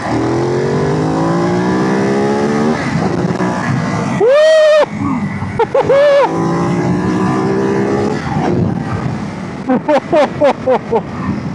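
A Ducati Monster 937 motorcycle pulls hard in sport mode, its engine note climbing steadily through the gears, then giving several quick, sharp throttle blips toward the end, loud and close.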